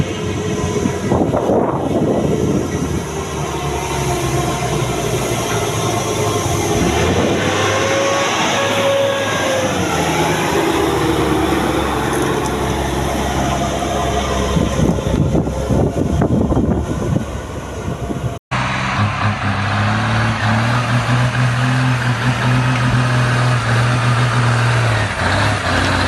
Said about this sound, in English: A truck carrying large logs was going down a long, steep slope, the engine roaring